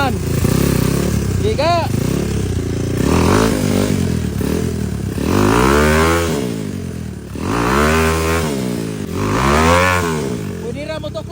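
A motorcycle engine revs up and down in several loud surges, with people talking nearby between and over the bursts.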